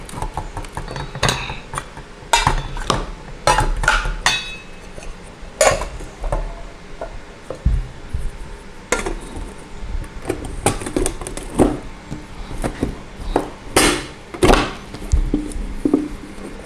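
A camping cook kit of metal pots and a frying pan being fitted together up close: repeated clanks, clinks and scraping knocks at irregular intervals, loud and sharp against a quiet background.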